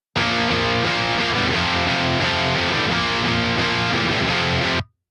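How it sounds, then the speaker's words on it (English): Electric guitar runs through a Marshall-style amp simulation plugin with a matching cabinet, a dense, loud, heavily distorted rock tone that plays steadily for about five seconds and then stops abruptly. "we're using the Marshall type amp here with the matching cab."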